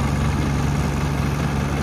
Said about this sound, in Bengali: এইটা মেন ছোট নৌকাটা ইঞ্জিন, বুঝলি?